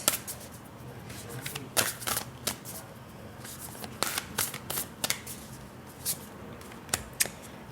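Oversized tarot cards shuffled by hand, giving sharp bursts of riffling and slapping at irregular intervals over a soft background hiss.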